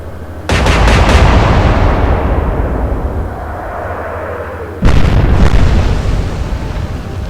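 Battleship main guns firing in the naval warfare game Atlantic Fleet, a loud booming salvo whose rumble decays over several seconds, followed by a second heavy blast with a long rolling tail.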